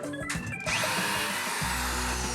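A power drill whirs steadily and loudly after a brief clatter at the start, holding a continuous buzzing drone to the end.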